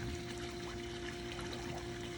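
Water trickles faintly and steadily from the aeration in an outdoor koi pond at night, a soft continuous babble with no voices.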